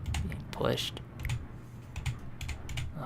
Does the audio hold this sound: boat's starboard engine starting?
no